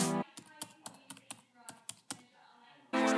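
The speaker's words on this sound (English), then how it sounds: "Here is a sound test of the keyboard." About ten soft, evenly spaced keystrokes on the scissor-switch keyboard of an early-2015 13-inch MacBook Pro with Retina display, with a voice speaking briefly at the start and again at the end.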